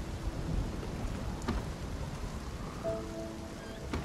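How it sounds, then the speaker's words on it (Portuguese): Steady rain hisses in the video game Spiritfarer, with a brief thunder crack near the middle and soft sustained musical tones coming in toward the end; no one speaks. "Tô sentindo barulhinho de chuva."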